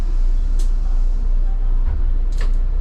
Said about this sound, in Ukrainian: Все, двері зачиняємо.